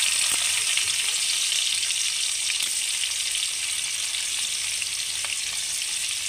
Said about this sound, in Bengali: পেঁয়াজটা অল্প ভেজে নেব, ব্রাউন অবধি ভাজবো